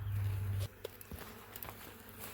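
Honey bees at an opened nuc box give a low, steady hum for the first moment, then it drops away, leaving faint rustling and light handling sounds close by.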